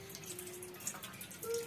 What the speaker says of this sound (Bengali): এর জন্য মটরের ডালটা ধুয়ে নিচ্ছি।